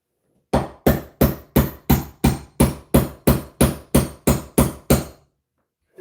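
Fourteen sharp, evenly spaced hammer blows drive a nail into a wall stud to hang road signs, loud and close with no talking.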